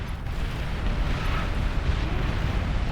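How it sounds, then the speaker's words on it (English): Nuclear strike on a defensive formation in a strategy video game: a loud, sustained, rumbling roar with deep low-end weight, continuous across the whole stretch with no talk. "I drop a nuke right on his defensive formation"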